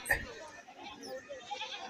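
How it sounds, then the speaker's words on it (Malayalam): Goats bleat amid the crowd at a busy Kerala goat market, one short close bleat standing out over constant murmuring voices and background chatter. "വണ്ടികളിലൊക്കെ ഒരുപാട് ആടുകളെ വാങ്ങിയിട്ടിരിക്കുകയാണ്"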